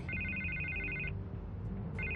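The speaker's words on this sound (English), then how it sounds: "I can't get the phone to stop ringing." A telephone rings in the Batman Telltale video game, two electronic trilling bursts separated by a brief gap, steady and fairly loud over a low background hum, with no voices.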